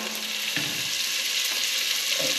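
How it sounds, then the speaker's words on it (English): Onions and garlic sautéing in a pan for Filipino chicken adobo, a steady close crackling sizzle with faint soft spoon knocks. "we're going to saute some of the onions and garlic, lower our heat a bit"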